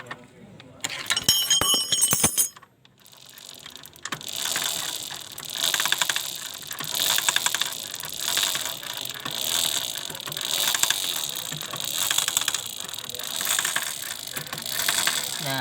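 A Honda Supra 125 fitted with a Kawasaki ZX 130cc piston is cranked on its electric starter. A brief rattling burst comes first, then a steady, loud whirring churn runs on without the engine catching.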